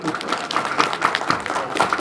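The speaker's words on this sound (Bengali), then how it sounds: "আমরা নিজেদের জন্য নিজের একটা করতালি দিই হ্যাঁ একটা জোরে করতালি" An audience at a gathering with speeches claps along together, making a fairly loud, continuous patter of hand claps with a loose rhythmic pulse.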